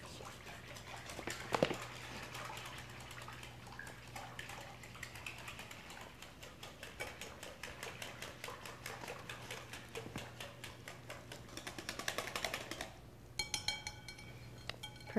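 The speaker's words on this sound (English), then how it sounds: "You want to slowly mix that in while she whisks?" Flour is whisked into crepe batter in a bowl, a quiet run of rapid, steady metallic ticking and scraping strokes that continues throughout with a faint hum underneath, no talking.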